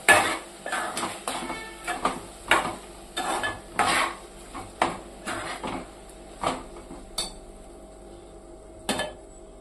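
A spoon scrapes and clinks against a pan while stirring a drumstick and tomato curry, in a series of irregular strokes with a faint sizzle underneath, then sparser scrapes toward the end.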